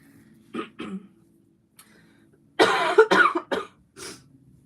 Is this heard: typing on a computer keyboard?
no